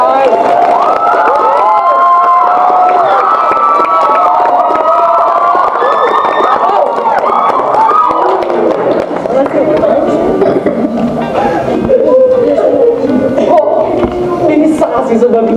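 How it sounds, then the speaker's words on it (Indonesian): A large audience at the Diartrosis 2022 performance event cheers, whoops and shouts loudly and continuously, a dense, close crowd roar with excited voices throughout. "Kasih tepuk tangan dulu dong guys."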